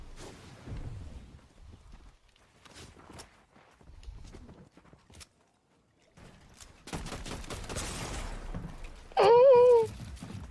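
Video game gunfire comes in scattered sharp bursts between quieter stretches, with denser shooting and a piercing warbling tone near the end.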